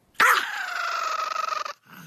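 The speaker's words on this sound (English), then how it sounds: "Here's some fucking silly dog noises coming at you on MSPH" Silly dog noises played back on a radio show: a dog's drawn-out growling whine starts sharply and holds steady for about a second and a half, close and loud, then cuts off into quiet.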